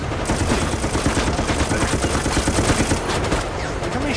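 Sustained automatic gunfire from the video game Operation Raccoon City: dense, loud, rapid bursts of shots firing continuously with barely a pause.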